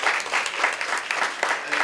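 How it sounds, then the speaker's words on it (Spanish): Audience applause at a closing ceremony, a dense patter of many hands clapping, fairly close and steady for a couple of seconds, with no talk over it. "Así que un aplauso,"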